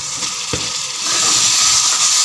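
Pre-cooked chicken for shahi korma drops into frying masala with a single thud, then the pan's sizzle swells into a loud, bright, continuous hiss over medium-high heat.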